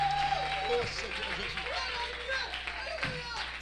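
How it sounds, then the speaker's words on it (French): Church audience applause and clapping fill the space while people talk and shout over it, steady and fairly loud throughout. "Give him a round of applause."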